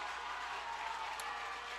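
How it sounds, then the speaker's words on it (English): Crowd in the stands at a high school football game, Bears against the Swanton Bulldogs, roaring in a steady, distant wash of cheering and applause through the whole short stretch. "Crowd getting pumped up."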